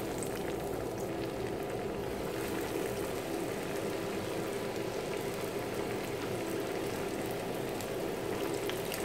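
Vegetable cutlets fry in hot oil, a steady dense bubbling sizzle that holds evenly from start to finish at moderate loudness, with no talking over it.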